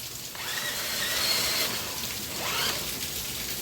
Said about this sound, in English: It's pouring on me now.